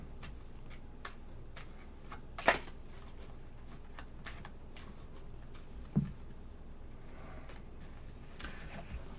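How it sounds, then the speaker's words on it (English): A deck of Lenormand cards being shuffled by hand, producing a soft, steady riffle of quiet ticks and flicks with a couple of sharper taps, faint and close with no talking. "Lenormand, let me shuffle those."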